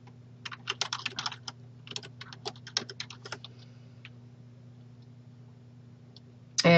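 Typing a file name on a computer keyboard: a quick run of light key clicks in short bursts that trail off into a few isolated taps, heard close over a steady low electrical hum.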